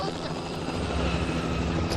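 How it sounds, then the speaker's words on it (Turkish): Helicopter in The Last of Us video game, a loud continuous rotor thrum with a low engine drone filling the whole stretch, steady and close. "Helikopter."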